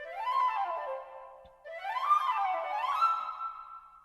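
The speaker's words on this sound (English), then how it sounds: "the first thing that came up was kind of the concert flute from this library" Concert flute from a Cinesamples MUSIO sample library plays quick major-scale runs, rising then falling, then a second ascending run, bright and clean, with no voices.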